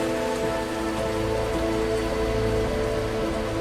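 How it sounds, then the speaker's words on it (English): Steady rain pours down in a very wet coastal region of Korea near Suncheon Bay, a dense, even patter of drops on surfaces that holds constant with no voices. "It can rain constantly here for weeks at a time."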